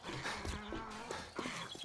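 A dog in the survival video game 7 Days to Die gives short whimpering yips and barks, brief and moderately faint against game ambience.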